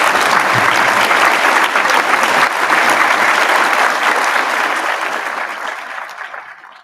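Sustained audience applause fills a winter graduation ceremony hall, dense and loud with no voices, holding steady before slowly fading out toward the end.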